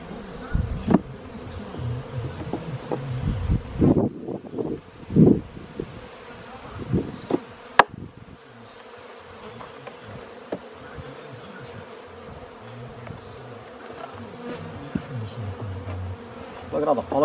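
Honeybees from a hive box busily bringing in pollen, a dense steady buzz of many insects near and far with a few louder passes close by, and brief thumps and handling noises.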